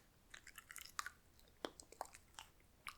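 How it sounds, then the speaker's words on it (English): Soft, close chewing of banana-flavoured gum, with wet clicks, smacks and squishes in an irregular rhythm and quiet pauses between, no talking. "So is this chewing gum. It tastes like bananas."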